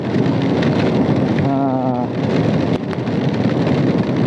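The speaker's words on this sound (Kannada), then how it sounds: "full rain sound ಕೇಂಡ" Heavy monsoon rain pours down on a forest road in a dense, continuous roar close by, with a brief voice briefly audible in the middle.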